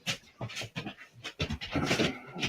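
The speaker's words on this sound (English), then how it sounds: "I got Labradors, and Mama's home, so they're having a fit" Labrador dogs pant rapidly and excitedly up close, in quick rhythmic breaths that run without pause for a couple of seconds, with no one speaking.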